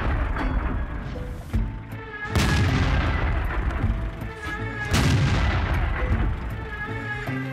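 Heavy tank cannon blasts in the game Mir Tankov (World of Tanks) boom out, each followed by a rolling echo, with rumbling battle noise and distant clatter in between.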